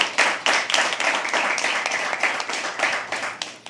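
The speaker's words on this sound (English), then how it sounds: "Can we please have an applause for everyone?" An audience at a poetry open mic at the Habitat claps in a dense, steady burst of applause that carries on for several seconds before thinning out near the end.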